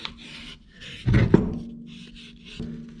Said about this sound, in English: just get some very, very fine grit sandpaper and just try and get some of that rust off